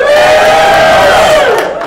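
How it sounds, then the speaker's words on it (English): A church congregation bursts into loud cheering and whooping on cue, a dense crowd roar that holds strongly for about two seconds before fading slightly. "I want you all to just cheer"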